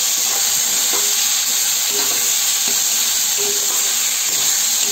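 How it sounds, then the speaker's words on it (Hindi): Chopped tomatoes frying in a pan for a home-style Uttar Pradesh matar nimona: a steady, loud hiss and sizzle runs throughout, with faint clinks of stirring. "जो हमने टमाटर कट करके रखे हुए थे इसको डाल लेंगे इसको भी कुछ देर के लिए ऐसे फ्राई करना है"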